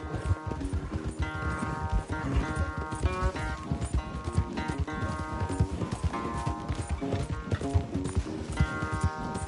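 Horses gallop flat out in a race in Red Dead Redemption 2, their hooves pounding in a fast, steady clip-clop that stays close and loud throughout, with an occasional snort or whinny.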